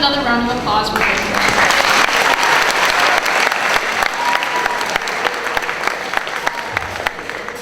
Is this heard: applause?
yes